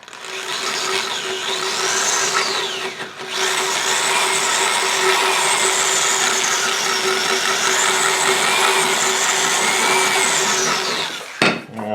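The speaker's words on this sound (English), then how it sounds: "Probably going to do this with the drum sander." Drum sander shaping an English walnut gunstock for an HW80 air rifle: a loud, steady whirring grind with a constant motor tone runs nearly the whole time, pausing briefly near the start and cutting off at the end.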